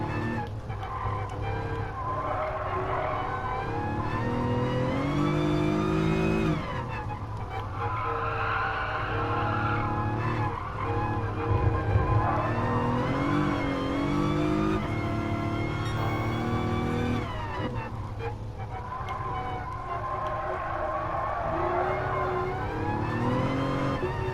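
Race car in Gran Turismo Sport braking and downshifting, engine revs rising and falling with blips between gears and tyres scrubbing, loud and continuous throughout, no talk.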